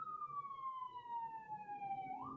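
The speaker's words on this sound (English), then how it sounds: "siren going by" A siren sweeps slowly downward as an emergency vehicle passes, a clear falling wail with a sudden shift near the end, heard at moderate distance over faint background noise.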